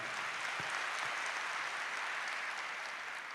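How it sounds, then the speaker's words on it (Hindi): An audience at a direct-selling company event claps steadily, a dense, even patter of many hands filling the room without a break for a few seconds. "एक बार उनके लिए जोरदार तालियां।"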